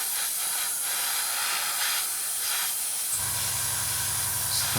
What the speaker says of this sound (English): The compressor just kicked in there.